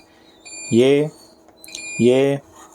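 A multimeter on its continuity range beeps while probing the copper tracks of a burned, dead Fronus PV9200 inverter board. Two short, thin, high beeps sound about a second apart, each with a brief voiced sound over it.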